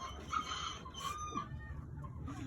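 Chickens clucking and squawking close by, a busy flock with overlapping calls over steady low background noise.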